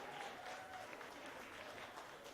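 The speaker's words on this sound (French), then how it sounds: "Un petit main d'applaudissement" Steady applause from an audience at a local arts event, clapping close and constant for a couple of seconds with faint crowd murmur under it.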